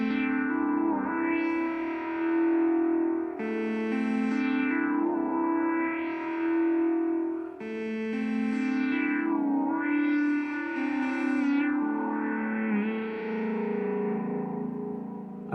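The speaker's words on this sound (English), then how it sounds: "I also used the wave folder on it again, which is a really good distortion" A distorted synth loop run through a wave folder, with filter automation sweeping the tone open and closed in repeating rising-and-falling swells, loud and continuous with no talk.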